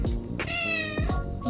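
A cat meows twice, loud and close, each call a drawn-out, wailing cry separated by a short pause.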